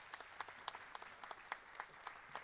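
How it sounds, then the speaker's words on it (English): An audience at a jazz talk claps in scattered, fairly faint applause lasting a couple of seconds. "Give him a clap."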